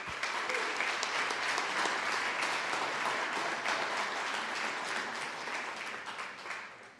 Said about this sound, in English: another big round of applause for our 4 groups and our students who presented